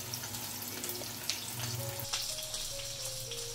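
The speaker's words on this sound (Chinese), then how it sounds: "先煎第一第一面先" Chicken wings marinated in fermented bean curd fry in a pan, giving a soft, steady sizzle with scattered small pops and crackles, close but fairly quiet, with no talking.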